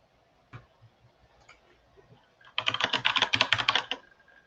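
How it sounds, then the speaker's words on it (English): A clacky computer keyboard typed on in a fast, close burst of clicks lasting about a second and a half, preceded by a few scattered faint taps. "I have a really clacky keyboard."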